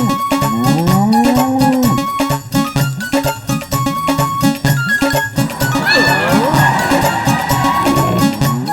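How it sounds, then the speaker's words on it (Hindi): A cartoon buffalo eating chaat gives loud, drawn-out moos against busy animated background music and effects, close and prominent throughout. "इस भैंस को चाट खाने का शौक है।"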